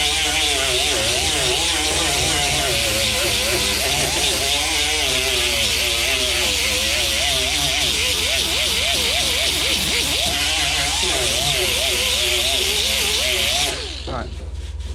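A grinder sands Bondo filler on a Nissan 240sx fender patch, a loud, close, continuous abrasive whine with a wavering tone as the pressure shifts, cutting off just before the end.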